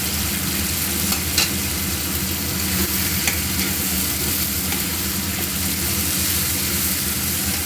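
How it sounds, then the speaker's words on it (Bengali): Potatoes fry in a pan while being stirred, giving a continuous loud sizzling hiss with a low rumbling undertone and a few sharp scrapes, close up with no voices. "আমি আলুটা দিয়ে একটু আগে নাড়াচাড়া করবো"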